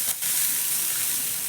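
Onion and green chilli fry in a little oil while being stirred, making a brief, even sizzling hiss up close with a slight dip near the start and no speech.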